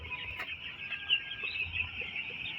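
Nine-day-old broiler chicks in a winter brooding shed chirp and peep in a continuous high-pitched chorus, moderately close, with soft scattered background noise and no talk.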